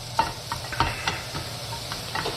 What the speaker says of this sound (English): So I'm just going to brown this off in a skillet.